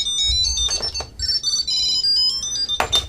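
A Tile Mate Bluetooth tracker on a set of truck keys rings out a bright, repeating electronic melody of short tonal phrases, near and fairly loud, with light handling noise between the notes.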